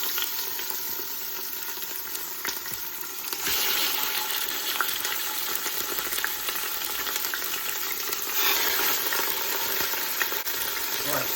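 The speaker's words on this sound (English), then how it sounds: "we're going to put in some meat and sear it" Pork shoulder searing in an Instant Pot, a steady broadband sizzle and crackle running throughout, growing a little louder partway through, with occasional faint utensil clinks.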